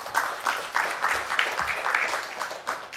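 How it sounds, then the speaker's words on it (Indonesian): Audience applause at a sermon fills the space with steady, dense clapping, moderately loud and continuous for a few seconds, with no speech over it. "Kasih tepuk tangan dong."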